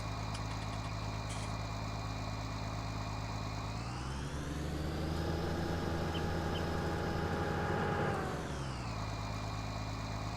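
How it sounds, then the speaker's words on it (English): Vehicle engine idling in Farming Simulator 19, a steady mechanical hum with a clear rev rise in the middle that holds before settling back to idle, constant and close with no talk. "Interesting sound on the engine."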